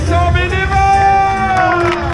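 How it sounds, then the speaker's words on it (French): A large crowd at the start of a marathon in Saumur cheers, whoops and claps, forming a loud, continuous roar with shouted voices and a sustained tonal note running through it. "On peut pas lancer ce départ sans faire un tonnerre d'applaudissements pour les 800"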